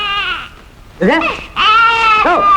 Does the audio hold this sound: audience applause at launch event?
no